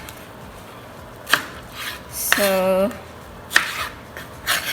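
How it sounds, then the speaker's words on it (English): Knife chopping pineapple finely on a board for Thai sweet and sour chicken gives a few sharp, separate taps spaced apart, with a brief scraping sound in between and a short spoken word. "we're gonna chop everything finely."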